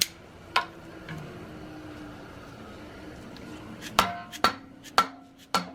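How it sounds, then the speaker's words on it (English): Sharp metallic hammer blows on Chevy 4.3 V6 engine parts during disassembly: one early strike, then a run of four quick hits near the end over a low steady hum. "When in doubt, get a bigger hammer out."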